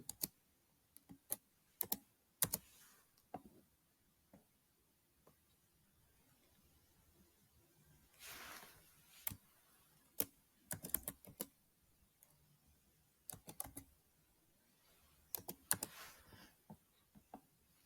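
Computer keyboard keys tap in short, quiet bursts of clicks with pauses between them as a verification code is entered, recorded close in an otherwise quiet room.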